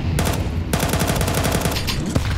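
SMG fire in Counter-Strike on the Nuke map during a pro esports match rattles in rapid, dense automatic bursts, loud and close, with a brief gap before the shooting resumes.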